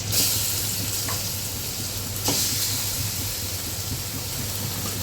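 Onions, cinnamon and cardamom fry in hot oil for a Pakistani-style beef curry, giving a loud, steady sizzle with a couple of faint stirring clinks and no talking.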